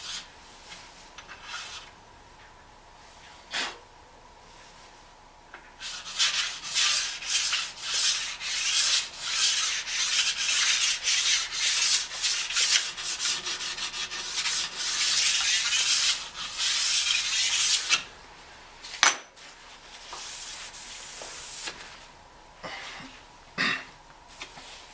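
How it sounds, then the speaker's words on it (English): A sharpening stone scrapes in repeated strokes along the base edge of a new ski during tuning. The rasping comes in bursts that start quiet and grow louder and heavier in the middle, with a few short pauses. There is no talk. "This is the one time I'm extremely heavy with the stones on the base edge."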